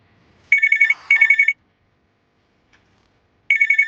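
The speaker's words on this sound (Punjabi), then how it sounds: "ਗਗਨ ਦਾ ਫੋਨ ਇਸ ਟਾਈਮ" A telephone rings in sharp electronic trills, two bursts in quick succession, then a pause before another begins; loud and close, with silence between.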